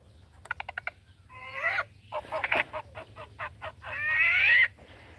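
An owl on a farm gives a series of harsh, honking squawks and rasping calls in bursts, fairly close, with short pauses between and a low hum underneath.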